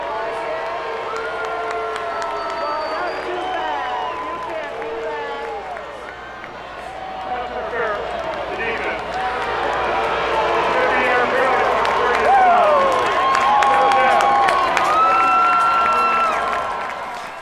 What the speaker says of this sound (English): You can hear both the boos and the cheers.